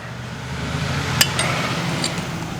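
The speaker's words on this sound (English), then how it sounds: "we're just going to work this wrench down onto the bolt, the head of the bolt, to where we know it's pretty much bottomed" A metal wrench is worked down onto the head of a stubborn bolt, producing a couple of sharp metallic clinks and a faint scrape over a steady low background hum.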